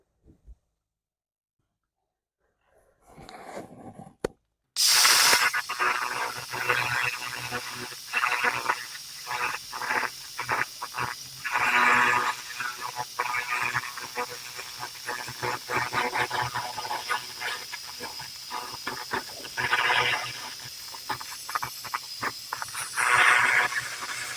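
A laser cleaner stripping surface rust from the floor of a 1971 Ford F100 truck gives a loud continuous hiss and crackle with rapid pulsing bursts, starting abruptly after a few seconds of near silence and running steadily close by.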